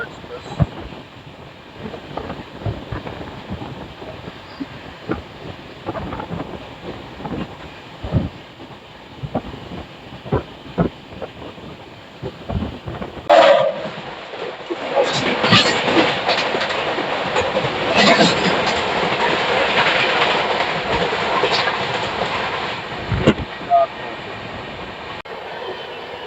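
The Kushinagar Express passes on the Indian railway as heard from aboard another train: steady clickety-clack of wheels over rail joints, then a sudden louder rush and rattle of the passing coaches that continues for several seconds.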